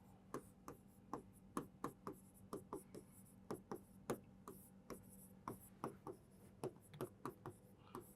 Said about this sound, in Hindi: इसको मैं लिख दे रहा हूं